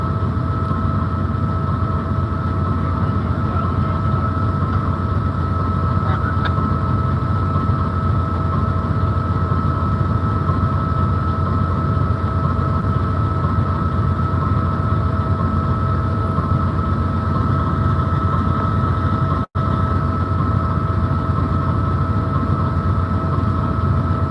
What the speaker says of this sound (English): sounds like they're cycling down the locomotives. Dumping the head-end power, maybe.